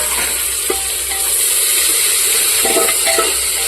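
Garlic and curry leaves sizzle in hot tempering oil for khichdi, a steady frying hiss close by with a few soft scrapes and clinks of a stirring spoon.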